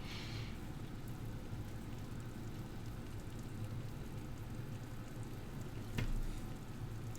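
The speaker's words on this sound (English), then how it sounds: "That seems to be the way that bacon turns out the best for me when I make it." Steady crackling sizzle of bacon frying in a pan, continuous and close, with a brief louder clatter near the end.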